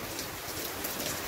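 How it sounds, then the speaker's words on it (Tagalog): Steady rain falls on a rooftop, a dense even patter of drops with no breaks, moderately faint and close. "Ulan."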